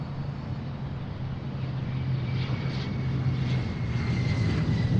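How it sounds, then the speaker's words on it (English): A Blue Angels jet at Boeing Field roars with its thrust reversers engaged, a continuous engine rumble with a low droning tone that swells a little louder toward the end. "There go the reversers."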